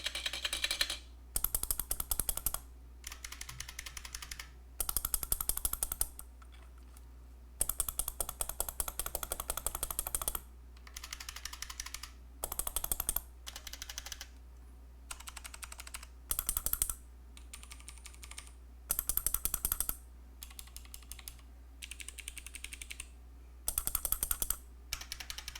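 Typing on a stacked acrylic 60% mechanical keyboard comes in loud, close bursts of rapid clacking, separated by short pauses over a low steady hum.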